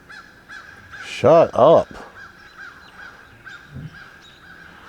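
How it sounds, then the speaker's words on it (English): Crows cawing outdoors, repeated harsh caws at a steady rhythm throughout, with two loud close calls near the start, under someone speaking briefly. "We got lots of crows here right now."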